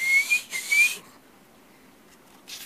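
A human voice imitates a tea kettle whistling, with two shrill, rising whistled tones in quick succession, then a quiet pause and the start of a third, close and clear.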